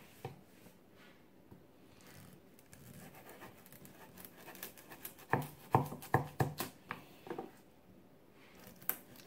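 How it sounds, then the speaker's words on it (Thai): Taro is cut into chunks with a knife, giving quiet, irregular thuds and slicing taps that gather into a cluster of sharper chops midway through. "เดี๋ยวเราก็จะหั่นเผือกเป็นท่อนนะคะ"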